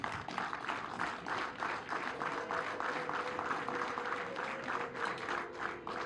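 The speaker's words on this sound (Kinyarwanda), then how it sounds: "maze bakumpera amashyi bagushimire" An audience at a Rwandan celebration claps steadily in sustained applause. The clapping stays even and fairly close throughout, with faint crowd murmur and music underneath.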